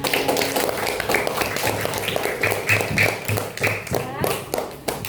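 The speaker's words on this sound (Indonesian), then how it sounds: "Terima kasih kelompok 4. Berikan tepuk tangan." A classroom of fifth-grade students claps for a student group, giving a short burst of scattered, uneven hand claps with voices mixed in.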